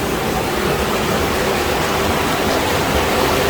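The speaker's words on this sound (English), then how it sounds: "going uphill against the river" River rushing steadily beside an uphill path, a dense, loud, unbroken wash of flowing water heard close by with no pauses or voices.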